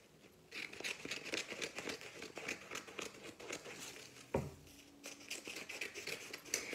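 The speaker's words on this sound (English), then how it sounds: "I'm just basically going to cut the slits at the end of the paper" Scissors cutting slits into a sheet of 8x11 paper, a quick series of crisp snips and crinkles at close range, with one louder sharp crunch near the middle and no talking.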